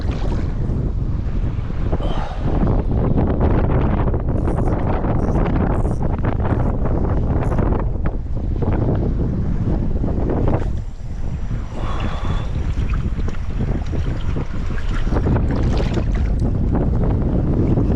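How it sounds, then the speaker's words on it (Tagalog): Strong wind roars steadily across the microphone while fishing in stormy weather, loud and continuous, with gusty buffeting and faint water-like rushing underneath. "lakas ng hangin"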